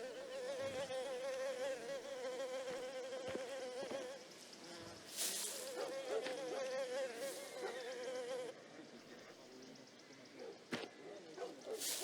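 A persistent, faint buzzing of flies in the video game Mafia: The Old Country drones on for several seconds, with occasional soft clicks and whooshes breaking through the hum.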